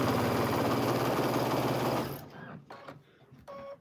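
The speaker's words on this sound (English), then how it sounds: "A lot of the antique machines, they can sew through leather, so this goes right through just fine." An antique sewing machine stitches through bulky quilt layers with a fast, steady mechanical chatter for about two seconds, then stops, leaving a few faint clicks and handling noises.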